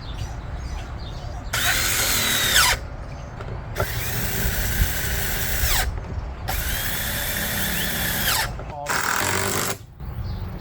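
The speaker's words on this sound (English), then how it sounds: "I will pre-drill these" A power drill pre-drilling wooden boards whines in repeated bursts of a second or two, revving up and cutting off, with a steady background rumble.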